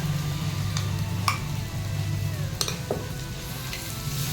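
Onions sautéing with ginger-garlic paste in a pan for egg thokku give a steady, close sizzle, broken by a few sharp spoon clicks and scrapes as the mixture is stirred. No one speaks.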